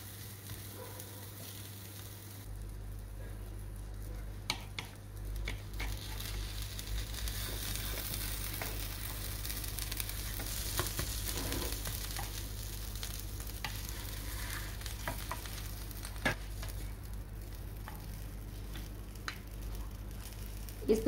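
A Mysore masala dosa cooks on a pan over a low flame, giving a faint, steady sizzle with a few soft pops and crackles throughout.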